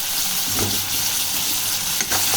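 Mint leaves frying in a pan of prawn curry, a close, continuous hiss and sizzle with a couple of soft stirring scrapes.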